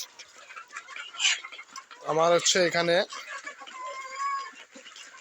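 Native desi chickens kept in confinement cluck close by, with one loud drawn-out call in the middle and softer clucks after, while someone talks briefly.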